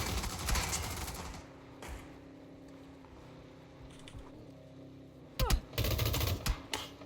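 Gunshots in a battle royale game rattle in quick bursts of sharp cracks, first as a fainter clatter early on, then louder, closer volleys near the end.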